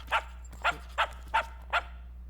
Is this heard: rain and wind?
no